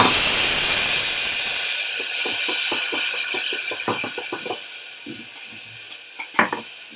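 Soaked moong dal (yellow gram) frying in a pan, a steady close sizzle and hiss that starts loud and settles lower, broken by short stirring scrapes and clinks.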